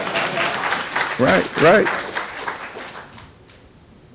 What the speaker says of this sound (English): Now, moms and dad, you want to clap on that one?